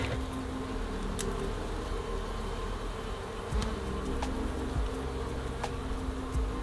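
Bees buzzing inside a beehive that has lost bees to swarming and has had its honey stores eaten, a steady, fairly faint drone with a few individual bees passing close.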